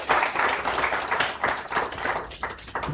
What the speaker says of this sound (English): we give a round of applause to thank him for that wonderful speech